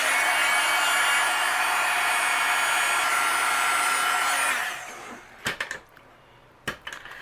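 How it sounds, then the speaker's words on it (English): Heat tool melting embossing powder on a card panel, a loud steady blowing whir that stops after several seconds, then a couple of sharp taps as the tool is set down and the panel handled. "I'm going to melt the embossing powder"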